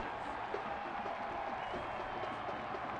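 Home crowd at a Louisville City FC soccer match roaring and applauding after a goal, a steady, dense wash of cheering and clapping from a large stadium audience throughout.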